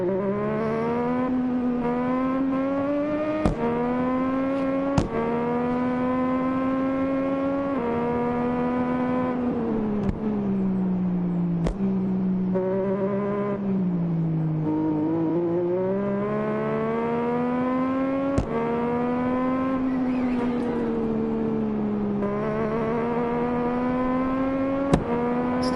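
Motorbike engines racing in the Isle of Man TT video game, a loud, steady high-revving drone that rises and falls with gear changes through the whole run, broken by a few sharp clicks.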